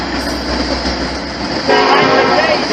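A train rolls past with steady rumbling rail noise, and from midway a loud, sustained horn blast with layered tones sounds up close.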